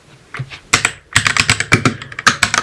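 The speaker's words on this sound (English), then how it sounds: "So type in f disk" Close, crisp keystrokes on a computer keyboard entering an fdisk command during an Arch Linux install on a MacBook, a few hesitant taps followed by a quick, irregular run of clicks.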